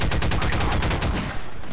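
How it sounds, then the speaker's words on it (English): Gunfire in Half-Life 2 co-op, a dense, loud stream of rapid automatic shots crackling continuously before thinning out near the end, with no speech over it. "We're being shot at."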